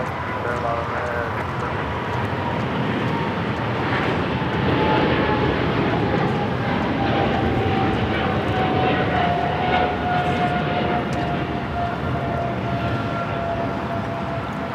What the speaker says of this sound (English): This is Singapore Airlines Flight 11 taking off to Tokyo Narita on the 777-300ER.